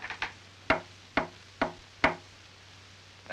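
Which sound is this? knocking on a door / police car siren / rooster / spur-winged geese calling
knocking on a door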